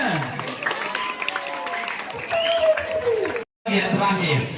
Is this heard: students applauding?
yes